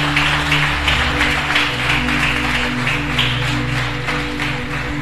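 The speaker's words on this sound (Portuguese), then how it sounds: "Aplauda o Senhor Jesus, que Ele merece" A church congregation claps together in praise during a worship service, a dense steady applause lasting the whole stretch over sustained low organ or keyboard tones.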